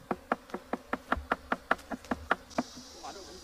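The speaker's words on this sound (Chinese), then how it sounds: "我们把收蜂笼倒上去，然后不停的敲。" Rapid, steady knocking on a bee-catching cage held over a swarm of wild bees, about a dozen close, even raps, with a buzzing hum of bees rising underneath toward the end.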